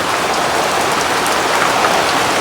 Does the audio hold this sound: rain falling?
yes